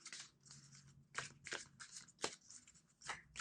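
Tarot cards are shuffled close up and quietly, in short, irregular riffling bursts separated by brief pauses.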